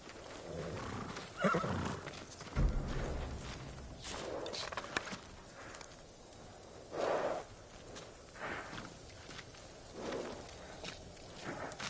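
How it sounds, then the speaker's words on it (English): Horses in the samurai game Ghost of Tsushima snort, breathe and let out several soft whinnies, with light hoof shuffles and clip-clops between them, fairly quiet and near, without speech. "They're samurai horses."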